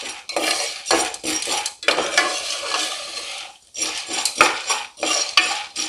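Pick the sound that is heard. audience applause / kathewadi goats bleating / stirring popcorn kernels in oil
stirring popcorn kernels in oil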